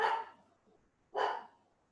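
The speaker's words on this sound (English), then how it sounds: "Is that your dog, Ann?" A dog barks twice, the barks about a second apart, fairly faint and slightly distant in an otherwise quiet room, with no speech.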